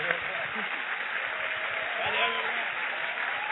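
Church congregation applauding during a sermon, a steady, dense wash of clapping hands filling the room, with a voice faintly audible beneath it.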